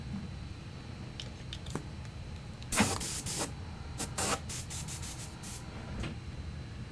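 An airbrush sprays paint onto a Warhammer 40k miniature in short hissing bursts, a few brief puffs followed by a denser cluster of sprays, fairly close and quiet.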